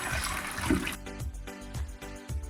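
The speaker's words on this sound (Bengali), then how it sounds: "এবার আমি সবজিগুলো ধুয়ে নেবো" Tap water runs while vegetables are washed in a kitchen, a close rushing splash that gives way to a softer, pulsing trickle.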